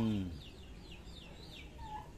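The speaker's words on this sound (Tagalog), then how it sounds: "O yung bandam. Yung maliit na manok." A small bantam chicken gives a run of soft, wavering clucks and chirps at moderate distance, with a brief voice or crow at the very start.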